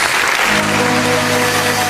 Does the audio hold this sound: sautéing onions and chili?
no